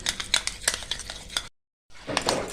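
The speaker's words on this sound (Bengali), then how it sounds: "এই বাটিতে দিয়ে দেবো নিয়ে ভালো করে এটাকে ফেটিয়ে নেবো" Strained curd is whisked in a bowl with quick, wet, rhythmic strokes, pausing for a moment of silence before the brisk beating resumes.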